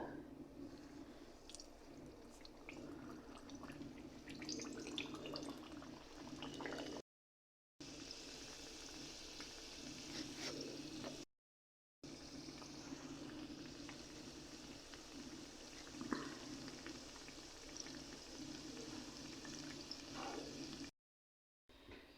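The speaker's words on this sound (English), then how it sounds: "we'll put a half a cup of olive oil in a frying pan and fry them up" Steady sizzling and bubbling of donuts frying in olive oil in a frying pan fills the whole stretch, a dense frying hiss with faint clinks, broken by a few brief silent gaps.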